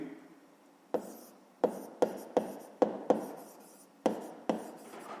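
Handwriting with a pen on paper during a math exercise: a string of sharp scratchy strokes and taps arriving in uneven bursts, close and fairly quiet, with no talking.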